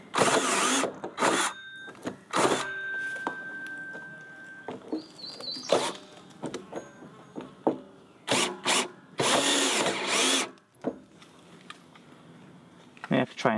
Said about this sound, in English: So it turns out my hole saw is 2 1/8 made for doorknobs.